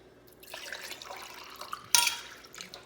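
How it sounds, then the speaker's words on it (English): Water trickles and drips through a Propur filter pitcher, a soft, quiet patter of small drops with a brief louder splash near the end, heard close and alone. "Here's the water filtering through."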